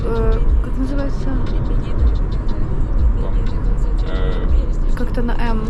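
A car travels along scenic mountain roads in Greece on the way to Matala, its steady engine and road drone heard from inside beneath people talking.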